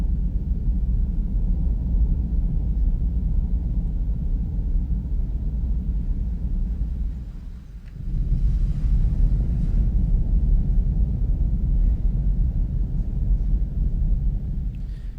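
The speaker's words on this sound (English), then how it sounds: "the rumbling sound underground is something like this. It's like a thunder," Deep underground rumble built in FL Studio for horror ambience, a thunder-like low drone that rolls steadily, dips briefly midway, then swells back and continues loud and unbroken.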